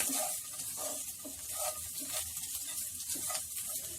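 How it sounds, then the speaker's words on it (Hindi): Chopped onion, spices and coriander leaves frying in a pan over a high flame for stuffed okra, with a steady close sizzle and hiss and occasional stirring scrapes, and no voices. "फ्लेम को हाई पे ही रख के इसे ऐसे ही भूनते रहिए"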